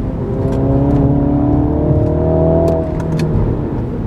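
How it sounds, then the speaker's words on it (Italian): MINI John Cooper Works in sport mode, its engine revving hard with a steady harmonic drone that rises and falls, sharp exhaust pops and crackles breaking through near the end. "Ora siamo in modalità sport, quindi abbiamo la massima sensazione di go-kart, tanti botti dallo scarico."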